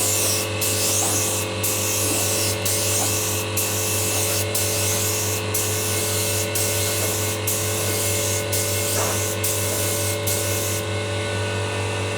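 Steady spray gun hiss as nitro lacquer is sprayed onto a guitar, running continuously and fairly loud with brief regular pauses in the airflow, close to the source and without talk.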